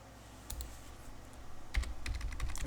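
Someone types a password on a computer keyboard while installing Linux Mint 22.2, first a few isolated keystrokes, then a quicker steady run of close, crisp clicks with no talking.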